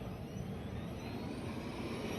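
A robot vacuum running with a steady, jet-like whooshing roar, close and constant throughout the short stretch, with no voices.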